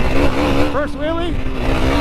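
A Yamaha YFZ450R quad's engine revs hard through a wheelie, a steady, loud buzzing drone with a voice speaking over it.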